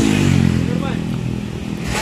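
A motorcycle engine runs close by, a loud, throbbing idle with a slight rev that eases off and then holds steady.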